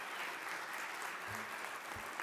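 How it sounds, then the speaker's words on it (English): Audience applause for a speaker fills the hall, a continuous wash of clapping with a brief low voice murmuring underneath. "Give her another round of applause."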